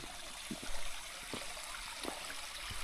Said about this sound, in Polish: No i tutaj mamy źródełko.